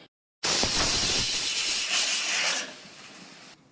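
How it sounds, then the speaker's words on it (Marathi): A pressure cooker cooking a dried prawn chutney on a gas stove lets out one loud, close whistle: a sharp, sustained steam hiss lasting a couple of seconds before it drops away to a softer fading hiss. "आता हिंगा एक सिटी झाली"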